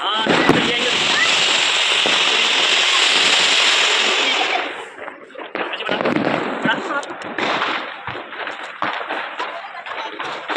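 Firecrackers bursting during an Indian puja celebration: a dense, loud crackling barrage for several seconds, then scattered sharp pops and bangs at irregular intervals, near and far, with voices in the background.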